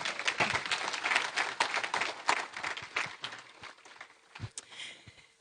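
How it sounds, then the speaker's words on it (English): An audience at a community award program gives a round of applause, dense clapping that holds for a few seconds and then thins out to scattered claps. "How about a round of applause?"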